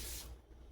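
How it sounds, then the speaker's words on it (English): An aerosol can releases a short, close hiss of spray that tails off quickly. "Let's spray in here."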